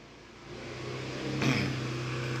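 A motorcycle passing nearby, its engine rising in a steady rev and swelling louder toward the end, heard alone without talk.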